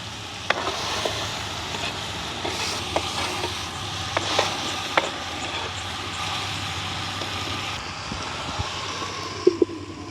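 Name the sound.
sautéing pineapple in oil for pineapple curry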